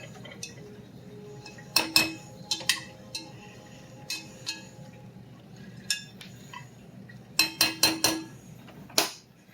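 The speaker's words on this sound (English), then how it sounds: "Mashing this butter down in there." Potatoes being mashed with butter in a pot with a potato masher, giving intermittent clinks and knocks of metal against the pot in irregular bursts, louder clusters near the end, with no talking.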